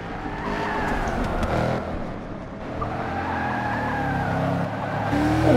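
Cars in the Forza Motorsport 6 video game, Mercedes-AMG GT S cup race at Mont Panorama, skid and squeal their tyres amid steady engine roar, with brief scuffing contacts throughout.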